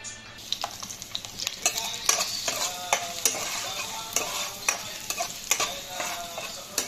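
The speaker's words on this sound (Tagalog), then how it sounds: "igisa natin yung bawang at saka, ano, loya at saka sibuyas" Garlic, ginger and onion sautéing in a pan with shrimp paste for Filipino pinakbet, a steady close sizzle broken by frequent sharp scrapes and clinks of a utensil stirring against the pan.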